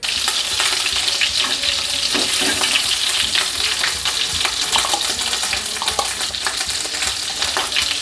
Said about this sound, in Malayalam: നമുക്ക് ഒരു ചട്ടി വെച്ചിട്ട് അതിനകത്തോടെ ഇനി ബട്ടറാണ് ചേർത്ത് കൊടുക്കുന്നത്. നമ്മൾ ബട്ടർ ഓയിലും വേണം. നന്നായിട്ട് പാത്രം ചൂടായിട്ടുണ്ട്. നമ്മളിനി ഓയിൽ ഒഴിച്ച് കൊടുക്കുകയാണ്.